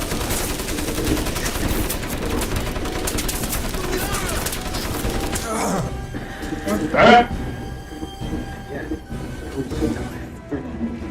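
Dense gunfire rattling continuously in the video game Crysis, loud and busy, then thinning after a few seconds into a quieter stretch with a brief sharp burst and scattered shots, with talk heard mixed in.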